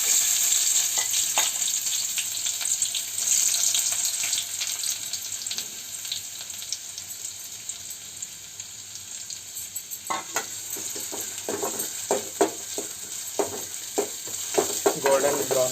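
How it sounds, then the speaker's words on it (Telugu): Onions fry in oil in a pan, a steady close sizzle that runs throughout, with clinks and scrapes of stirring that grow busier toward the end. "సో ఇలా చేయడం వల్ల మనకి ఈజీగా ఆనియన్స్ ఫ్రై అయిపోతాయి అన్నమాట"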